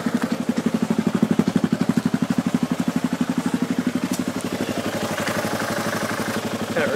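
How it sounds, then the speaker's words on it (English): A car engine idles steadily nearby at about 1400 rpm with a rapid, even chugging pulse, loud and mechanical, with faint clatter on top and no one speaking. "just drops down and settles into a beautiful 1400 idle"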